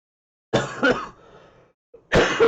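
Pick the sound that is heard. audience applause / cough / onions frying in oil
cough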